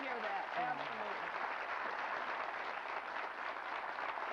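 Studio audience applause on a TV talk show, a steady, even wash of clapping held at a low, distant level, with a brief voice at the very start.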